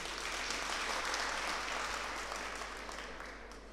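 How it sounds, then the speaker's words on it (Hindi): An audience at a Bundeli cultural gathering in Indore applauds in a dense, steady wash of clapping that gradually fades slightly toward the end. "जोरदार तालियां बजाइए।"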